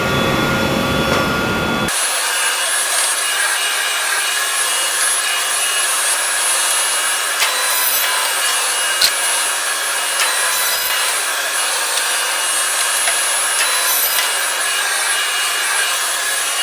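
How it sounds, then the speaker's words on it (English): A saw cuts shelving boards to size against a stop block in a woodworking shop, a loud, continuous machine whine with rubbing wood noise that holds steady throughout after a brief different start. "I will cut all one size, and then I will adjust my stop block and then cut the other side of the shelving"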